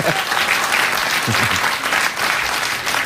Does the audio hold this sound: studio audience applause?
yes